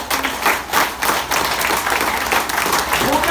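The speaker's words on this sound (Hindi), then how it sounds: "तो यहाँ तालियों की गड़गड़ाहट रहनी चाहिए" An audience at a training session applauds, a dense and loud wash of clapping that runs steadily from start to finish, with a few louder bursts near the beginning.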